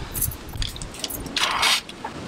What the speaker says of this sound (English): What do I do with my keys?